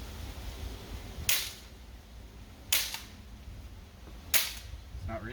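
Three sharp shots from a homemade semi-automatic BB gun, fired across a chronograph, crack out at spaced intervals of roughly one and a half seconds over a low steady background hum.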